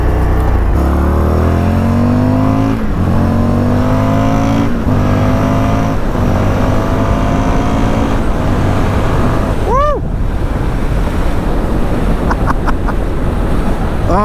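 Indian FTR 1200 S motorcycle accelerating hard in sport mode, its engine note climbing through repeated short upshifts, loud and close under steady wind roar, with a brief faint voice in the middle.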